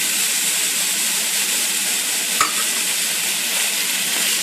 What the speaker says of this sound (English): just continue to cook and chop this up until your pork mince, or your ground pork, is brown